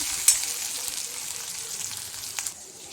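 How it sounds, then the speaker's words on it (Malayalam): Chopped ginger and green chillies sautéing in a pan for lemon pickle give a steady, soft sizzle with a few faint stirring taps. "ഇതെല്ലാം കൂടി ഒന്ന് വാട്ടി കൊടുക്കാം"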